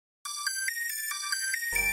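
Synth lead for a virtual-style trap melody, run through Valhalla Supermassive reverb and Vocal Code X, playing a bright, repeating pattern of short plucked notes with shimmering upper harmonics, ending on a fuller bass-heavy hit.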